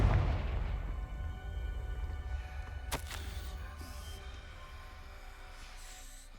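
Confringo fire spell in Hogwarts Legacy: a deep booming blast at the start, a sharp crack near the middle, and a long rumbling decay with no talking.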